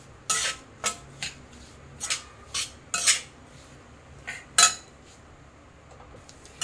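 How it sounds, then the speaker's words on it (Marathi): A spatula scrapes and clinks against a pan as chili and peanut powder is sautéed in ghee, with sharp, irregular strokes about once a second over a quiet background. "परतून घ्यायचं तुपात, हे चांगलं परतून घ्यायचं तुपामध्ये।"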